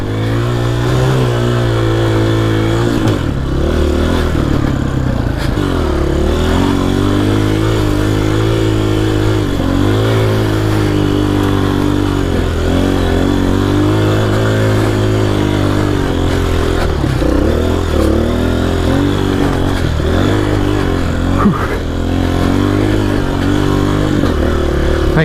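A dirt bike engine labours uphill in first gear, a loud, close, continuous engine drone with rising and falling revs and a rough clattering edge throughout.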